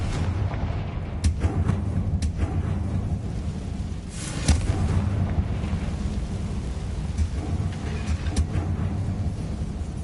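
Confringo fire-spell explosions in the game Hogwarts Legacy: repeated booming blasts and sharp cracks over a constant dense rumble, with several distinct impacts spread across the stretch.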